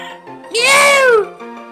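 A cat Pokémon's electronic cry rings out in Pokémon Platinum, a single bright, rising-then-falling meow-like wail lasting under a second over quiet game music.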